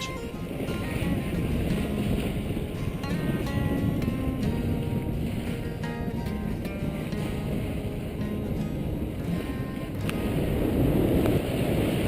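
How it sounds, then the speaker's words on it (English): A sailboat running in trade winds between Hinchinbrook and Dunk Island, with steady wind rush and water washing along the hull throughout, loud and continuous, no talk. "We have left Hinchinbrook and we've finally found the trade winds and we're sailing up to Dunk Island."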